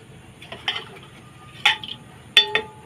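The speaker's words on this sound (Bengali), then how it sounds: "একটু হাতা দিয়ে নেড়ে দেবো আর হাতাটা দিয়েও নেড়ে দিই" A metal ladle stirs a pot of rice as it cooks, making three short scraping, clinking bursts spaced about a second apart against a quiet background.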